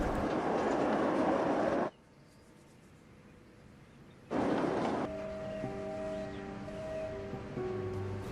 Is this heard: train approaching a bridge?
yes